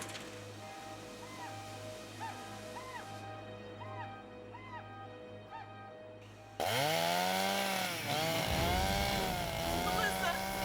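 A chainsaw cuts into a tree outdoors in the wilderness, first a warbling idle behind honking geese, then abruptly revving loud and close with rising and falling whine as it bites into wood.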